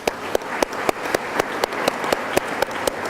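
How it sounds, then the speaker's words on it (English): Audience applause at the 2014 Better Business Bureau Eclipse Awards night in Dayton, a steady wash of many hands clapping with sharp, regular individual claps standing out over the crowd for the whole stretch. "Let's give them a round of applause"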